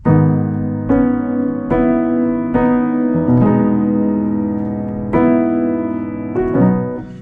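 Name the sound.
piano chord rolled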